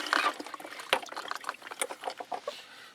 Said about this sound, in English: we're underneath the water faucet, add water